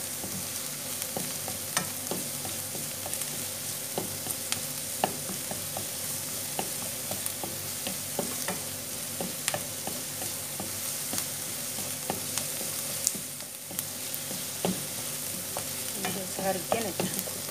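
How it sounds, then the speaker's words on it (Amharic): Onion and garlic frying in a pan while being stirred, a steady sizzle under repeated scraping and clinking stir strokes, close and continuous with no talking. "ነጭ ሽንኩርቱን አብሬ ሽንኩርቱ ጋራ አፍላለዋለሁ፣ አዋህደዋለሁ ማለት ነው።"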